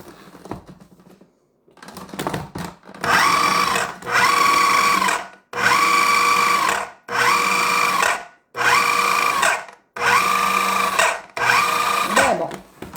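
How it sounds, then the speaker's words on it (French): Food processor chopping celery stalks in a kitchen, seven loud whirring bursts of about a second each separated by short pauses, preceded by some handling clatter. "Que je vais venir couper un petit morceau dans mon robot."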